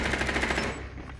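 Rapid automatic gunfire from Rainbow Six Siege sounds in a loud, dense burst that tails off within about a second.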